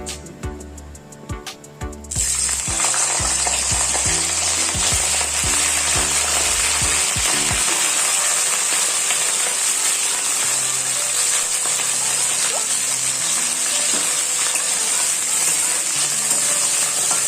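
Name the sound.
cauliflower frying in hot oil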